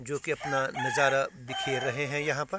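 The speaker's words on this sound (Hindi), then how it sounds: "और पीछे आप मुर्गे की आवाज़ भी सुन रहे हैं" A rooster crows in the background, partly masked by someone talking steadily over it close to the microphone.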